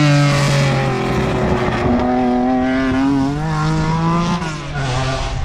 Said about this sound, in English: Here's the another Lancia Stratos. Let's enjoy this beautiful sound.